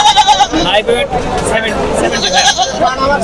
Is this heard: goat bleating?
yes